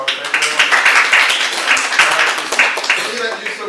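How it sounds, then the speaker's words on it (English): Audience at a software quality tutorial on prompt engineering gives a round of applause, a moderate burst of clapping in a room that rises and trails off. "First of all, let's give a round of applause."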